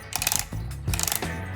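A Timemore C2 hand coffee grinder's adjustment ring being screwed down and locked, a close, dense run of fast mechanical clicks and grinding ratchet noise in two bursts.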